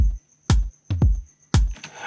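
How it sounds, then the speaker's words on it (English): Several deep, thumping tom drum hits in a loose pattern, one quick double hit in the middle, each decaying fast, no voices. "we have some toms coming up. They sound like this, the first one"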